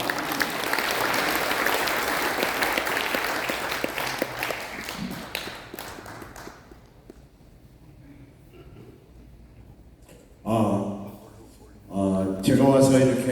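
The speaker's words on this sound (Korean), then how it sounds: "감사의 박수를 보내주시기 바랍니다" Applause from a gathered audience at an elders' rally, welcoming a former vice minister of defense. It is dense at first, then fades to quiet, and later bursts of talk or sound return near the end.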